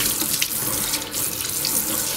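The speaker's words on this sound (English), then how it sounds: "And I'm rinsing it." Tap water runs steadily over a granite sink during a rinse, a loud, close, continuous splashing stream with no talk.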